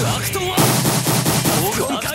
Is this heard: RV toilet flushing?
no